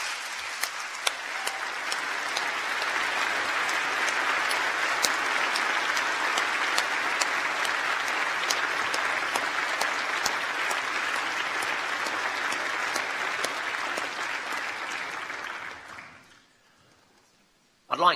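A large hall full of people at a university winter graduation ceremony applauds the staff, dense sustained applause lasting about fifteen seconds before quickly dying away into near silence.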